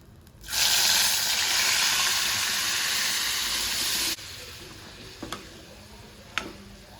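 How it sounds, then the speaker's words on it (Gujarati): Onion-tomato gravy goes into hot oil tempered with asafoetida and bursts into a loud sizzling hiss for about four seconds. The hiss then drops to a softer simmer with a few faint ticks and clinks. "હવે આપણે ગ્રેવીનો વઘાર કરશું એ માટે મેં પહેલાં હિંગ નાખી છે અને હવે આપણે આ ગ્રેવી નાખી દઈશું કાંદા ટમેટાની"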